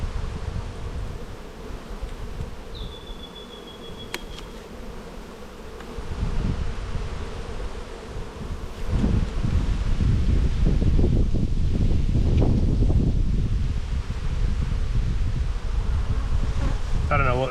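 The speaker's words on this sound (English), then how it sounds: "Lots and lots of bees." Honey bees swarm thickly around an open hive box during a hive inspection, their dense steady buzz filling the air close up, with wind rustle and a few louder passes near the microphone.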